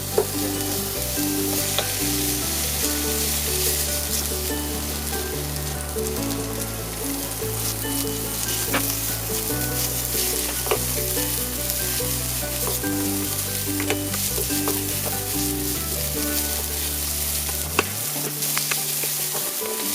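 Salmon fries in a pan for tomato cream pasta, a dense, loud crackling sizzle with popping spatters that runs steadily throughout, its tone shifting slightly at the very end.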